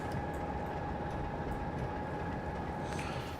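A bigger train runs past on the East Coast Main Line as a steady, fairly distant rumble with a sustained hum, no voices over it.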